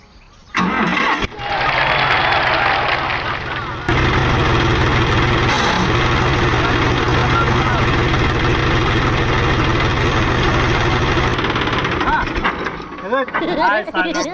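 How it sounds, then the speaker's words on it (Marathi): A tractor engine cranks and catches, then settles into a loud, steady diesel idle that runs for several seconds before cutting, with someone talking nearby. "आते ट्रॅक्टर चालू करी"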